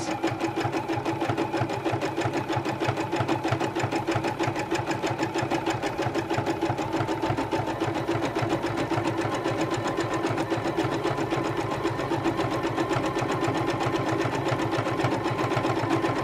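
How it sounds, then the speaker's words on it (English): A sewing machine runs slowly and steadily through a zigzag stitch on quilt-as-you-go hexagon blocks, its rapid even needle clatter and motor hum continuing nonstop and up close. "So I'm just going to go fairly slowly with that zigzag stitch catching both edges."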